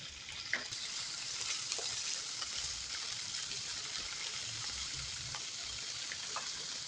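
Chicken pieces frying in hot oil in a pan, a soft steady sizzle with occasional faint pops, fairly quiet and continuous with no talking.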